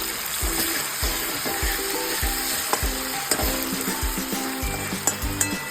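Ginger-garlic paste fries in hot oil for a dahi tadka, crackling and sizzling loudly and continuously, while a spoon stirs with repeated knocks and scrapes against the pan, close up.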